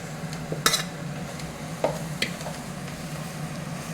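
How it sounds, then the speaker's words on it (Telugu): Cooked rice is tipped into a kadai and stirred for gobi fried rice. A couple of sharp spoon-on-metal clanks and scrapes rise over a low, steady sizzle close by. "ఈ రైస్ మొత్తం ఆ కళాయిలో ట్రాన్స్ఫర్ చేస్తున్నాను."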